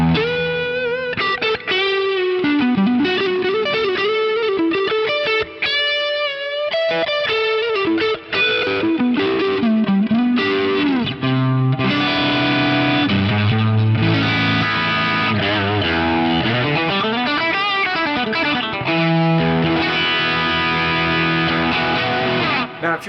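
Electric guitar through a Fractal Audio amp with a drive pedal and Aurora delay plays a flowing, overdriven lead with bends and sustained notes, echoes trailing behind, loud and continuous with no voice.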